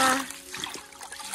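Fresh water trickles and splashes into a bucket in a village home, a close, uneven dribbling with a brief louder gush at the start, no talking.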